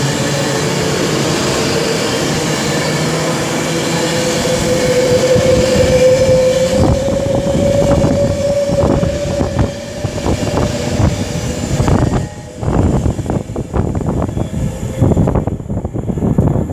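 A train on the West Coast Main Line at Rugby station, a loud close rumble with a rising whine from the traction motors, then rhythmic clatter of wheels over rail joints as it passes.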